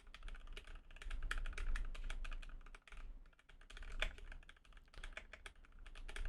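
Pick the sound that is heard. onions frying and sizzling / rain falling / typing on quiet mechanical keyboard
typing on quiet mechanical keyboard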